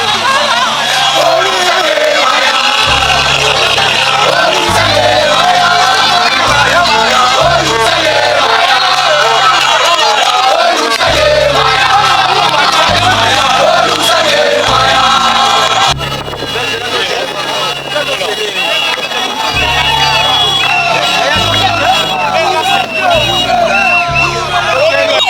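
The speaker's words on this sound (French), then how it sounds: "Ils étaient une foule à plus de 4000 personnes venues des quatre coins de la cité de Bakata" Large crowd of over 4000 people in Bagata, Kwilu, welcoming a politician: dense, loud hubbub of voices and cheering with rhythmic drumming or music throughout, plus scattered whoops.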